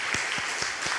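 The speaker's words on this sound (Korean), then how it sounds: "박수로 한번 크게 영광을 드리겠습니다" A church congregation at a Sunday praise service claps in dense, steady applause with a faint rhythmic pulse running underneath.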